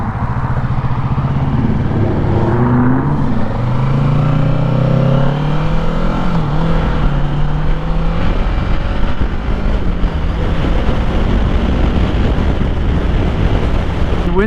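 Kawasaki Ninja 650 motorcycle on a test ride on a windy day, with a steady, loud engine drone and rising and falling tones, heavily buffeted by constant wind roar against the microphone throughout.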